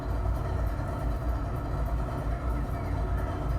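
A freight train in the Run 8 rail simulator rumbles steadily with a low, heavy engine drone and rolling rail noise, continuous and fairly faint.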